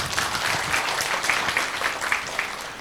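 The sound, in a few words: audience applause for the Blora cadres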